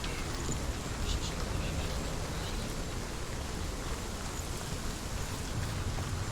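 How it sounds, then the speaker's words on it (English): Steady rain in Hellblade: Senua's Sacrifice forms a dense, even wash of hiss that holds loud and unbroken throughout. "Is it raining now?"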